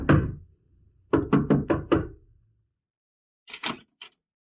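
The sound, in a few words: knocking on a door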